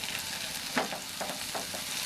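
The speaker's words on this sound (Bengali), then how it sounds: "মাঝারি আঁচে কড়াইয়ের মধ্যে 2 চামচ পরিমাণ তেল দিয়ে ডিমগুলিকে আমি চূড়ো করে ভেজে নেব" Beaten eggs sizzling in two spoons of hot oil in a wok over medium heat, a steady fry with occasional scraping stirs, close and alone.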